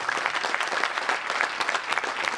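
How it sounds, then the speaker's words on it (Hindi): An audience at a national party convention claps loudly to welcome newly elected party officials. The clapping is dense and steady throughout, with no talk over it. "जोरदार ताली बजा के स्वागत करें"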